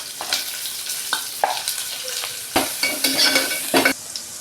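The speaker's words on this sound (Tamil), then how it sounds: "இதில் வெங்காயம் போட்டுக்கலாம்." Onions and garlic fry in a pan with a steady, close sizzle, broken by several scraping stirs of a spoon against the pan.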